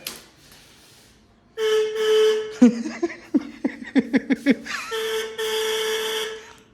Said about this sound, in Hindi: हॉर्न नहीं खराब है अपना।